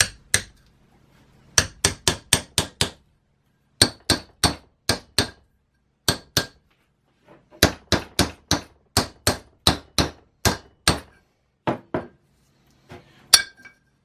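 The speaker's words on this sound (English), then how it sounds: "Then I'm just going to bang it with a big hammer, and should be good." Heavy hammer blows drive a main seal into the metal housing of a Devair 447 during a rebuild, in quick bursts of several sharp, ringing hits each, separated by short pauses.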